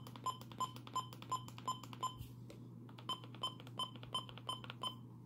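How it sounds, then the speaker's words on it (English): Button beeps from a Midland WR400 version 2 weather radio: a steady series of short, evenly spaced electronic bleeps, close and clear over a constant low hum, with a brief pause midway. "the button beeps on the version 2 has less clicks than the version 1"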